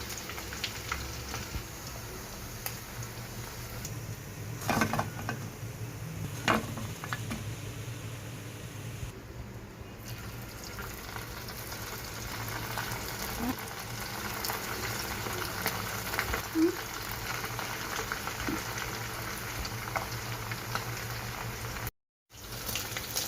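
Chicken cashew pakodi frying in hot oil, giving a steady, even bubbling hiss that runs unbroken and fairly faint, with a brief dropout near the end.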